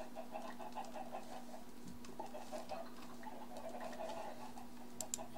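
Chickens clucking in the Minecraft video game, a steady layer of small game-animal clucks and patter with a constant tone underneath, no talking over them.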